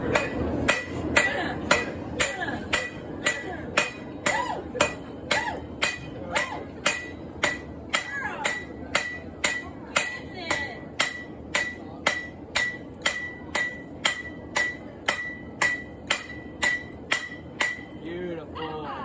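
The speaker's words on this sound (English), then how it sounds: "Hammer time." Railroad spike being hammered while being forged into a knife, a long run of evenly spaced metallic blows ringing close and loud, with brief talk near the start.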